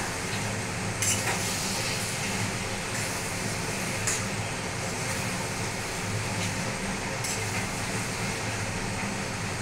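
Loitta fish frying in spiced masala, a steady low sizzle with occasional faint stirring clicks, even and continuous, with no talk over it.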